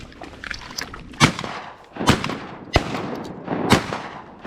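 Shotgun blasts during a duck hunt over a flooded rice field in Arkansas, four sharp loud reports spaced irregularly over an outdoor wash of ambient noise, no talking.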